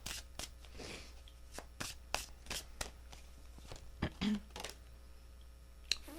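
Tarot deck shuffled by hand in short bursts of crisp card riffling and tapping, a dozen or so quick strikes spread across a quiet room with pauses between them.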